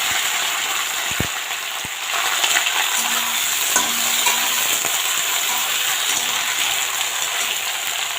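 Washed leafy greens hit hot oil seasoned with nigella seeds and fry with a loud, continuous close sizzle, while a few sharp utensil clinks and stirring scrapes sound over it.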